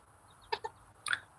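A rooster gives a few short, soft clucks close by in a quiet outdoor setting, with two quick notes followed by a brief, rougher call.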